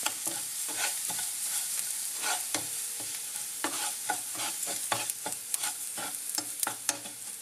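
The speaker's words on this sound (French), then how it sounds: "J'y ajoute le quinoa. Je remue tout ça." Quinoa stirred into softened onions in a pot, a close, continuous sizzle broken by quick repeated scraping strokes of a spoon against the bottom, busy and rhythmic.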